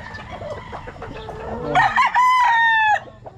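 A stag rooster of a sweater cross lets out a loud, clear crow near the end, after a stretch of softer clucking and farmyard murmur.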